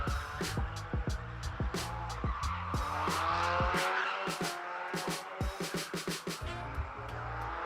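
A car with an engine resembling a Ford EcoBoost revs hard while leaving a car meet in Mexico, with repeated rapid throttle blips, popping bursts and tire squeal, loud and close throughout.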